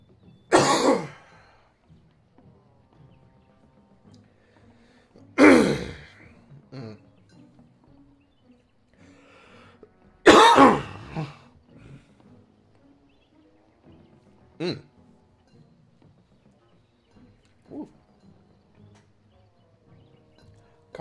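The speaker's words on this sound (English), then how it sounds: "Give me a second, I'm about to cough pretty bad." A person coughs hard from a tickle in the back of the throat, with three loud, harsh bursts a few seconds apart, followed by two smaller throat-clearing hacks and quiet breathing in between.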